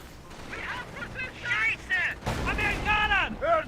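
An anti-tank gun and tanks fire during a battle in the World War II strategy game Company of Heroes. A sharp boom lands midway, under steady commentary from someone talking throughout.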